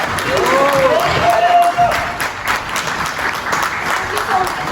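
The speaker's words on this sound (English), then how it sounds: "Long clap for our host." Sustained applause from a crowd at an evening award ceremony for an educational trip, dense and fairly loud, with scattered voices and a whistle-like tone over the clapping that eases slightly toward the end.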